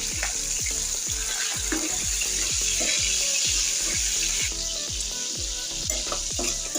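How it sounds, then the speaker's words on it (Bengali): Shrimp fry in oil with a little salt, a loud, close sizzle with rapid, rhythmic spatula taps and scrapes against the pan repeating throughout. "অল্প করে একটু লবণ দিয়ে চিংড়ি মাছটা ভেজে নেব"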